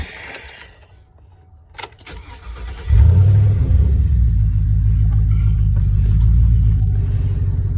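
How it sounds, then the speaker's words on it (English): A 2006 Chevy truck with a Vortec engine cranks briefly and fires up, then settles into a loud, steady idle rumble close by, following a few quiet clicks and movement. "I'm going to get into it and fire it up and let you guys get a little bit of what this thing sounds like when it cranks up."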